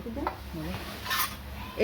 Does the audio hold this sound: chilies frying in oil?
yes